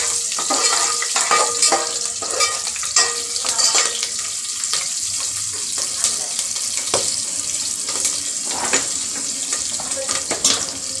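Green chillies, curry leaves and a pinch of asafoetida sizzle in hot oil in a home kitchen, a steady crackling fry with occasional stirring clinks and faint running water in the background.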